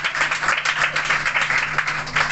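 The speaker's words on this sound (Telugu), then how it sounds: "అందరు చప్పట్లు కోరుదాం" A congregation at a church prayer meeting claps together in a short, dense burst of applause, fairly close and even throughout.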